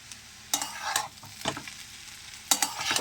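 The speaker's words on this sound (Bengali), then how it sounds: "দাঁড়া চাউমিনটা মিশিয়ে নিই তো" Chow mein stirred and tossed in a hot pan, a close sizzle with three or four sharp scraping strokes of a utensil at irregular intervals, no talking.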